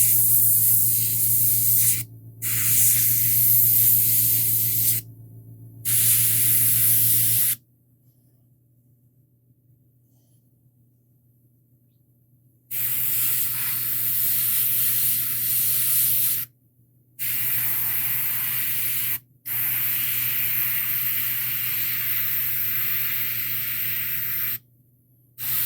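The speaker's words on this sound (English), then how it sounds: "I have very little paint coming out of my airbrush" An airbrush sprays paint onto a model in steady hissing bursts of several seconds each, separated by short pauses and one longer silent gap, with a low constant hum underneath.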